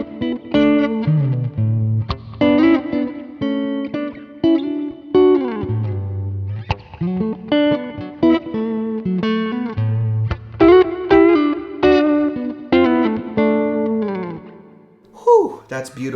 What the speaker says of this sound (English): when I just use my fingers, that's when we pull back and those bright tones really warm up a little bit with like the fleshy sound of the fingers